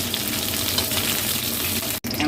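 Whole garam masala spices hit hot oil with a loud, continuous close-up sizzle and crackle, after a batch of cauliflower has been fried, with a sudden brief cut near the end.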